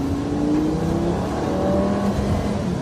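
Car accelerating hard on a Gumball 3000 rally drive in 2006, engine note climbing steadily in a continuous close-up whine and roar with no talking.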